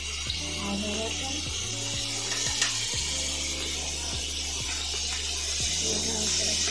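Ginger paste with garlic frying in a pan while being stirred, a continuous sizzle broken by regular scraping knocks of a spoon against the pan, no one speaking.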